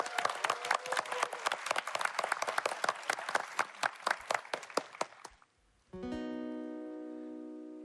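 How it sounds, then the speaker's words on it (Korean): A small audience claps in a crisp, rhythmic run of distinct hand claps for about five seconds, then falls briefly quiet before sustained music begins. "박수로 청해서 한번 들어보죠."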